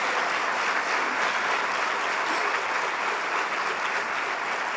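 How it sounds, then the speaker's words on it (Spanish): A church congregation gives a dense, even wash of applause that stays steady for the whole stretch, with many hands clapping at once and no voices standing out. "Denle un aplauso."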